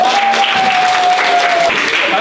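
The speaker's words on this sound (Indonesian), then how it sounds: "Terima kasih. Tepuk tangan." Classroom applause after a student presentation on atomic structure, a dense steady patter of clapping hands lasting a couple of seconds with a faint voice or tone running underneath.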